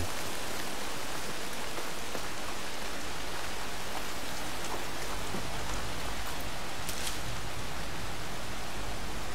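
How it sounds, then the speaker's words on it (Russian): Steady, dense rain in the video game Horizon Forbidden West pours down without a break, a constant hiss of drops hitting surfaces, fairly loud and even throughout. "Из-за дождя я ничего не слышу."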